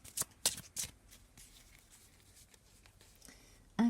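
Divination cards being shuffled in several quick riffling bursts early on, then a soft shuffle of handling noise and a brief thump at the very end.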